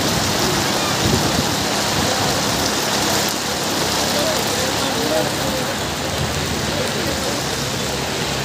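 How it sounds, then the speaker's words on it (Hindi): Steady rain patters on surfaces nearby in Vrindavan, India, a dense continuous hiss with faint voices underneath. "ये बारिश की बूंदें देखिए आप।"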